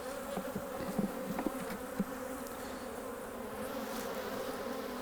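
Honey bees buzzing steadily inside an opened hive during a colony inspection, a dense continuous drone close by with a few soft knocks and bumps of the frames, no voices.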